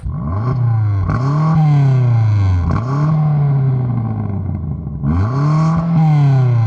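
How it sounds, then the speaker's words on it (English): A BMW M5 CS engine revs loudly through its exhaust, climbing and dropping in repeated surges with a deep, rasping tone, close by. "Now let's hear it from the exhaust. Give it some more revs."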